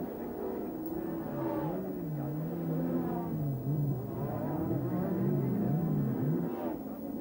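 1993 DTM touring race cars, Italian cars among them, race past with engines droning and rising and falling in pitch as they rev through the gears, a continuous layered roar of several cars at a moderate distance.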